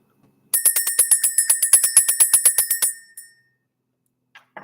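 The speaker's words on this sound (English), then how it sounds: "We're going to go ahead and ring the bell" A small bright bell rings in a fast, even run of about twenty strikes, close and clear, then stops abruptly, leaving near silence with a couple of faint sounds afterward.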